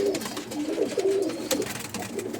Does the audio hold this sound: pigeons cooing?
yes